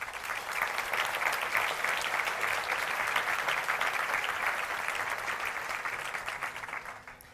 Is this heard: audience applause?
yes